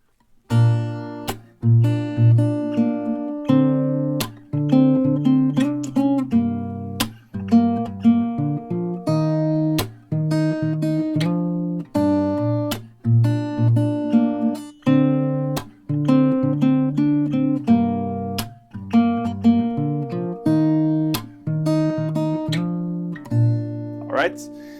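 Steady acoustic guitar playing a song's melody together with its accompaniment, plucked notes and bass strokes in a continuous rhythmic pattern with occasional sharp percussive hits, loud and close throughout.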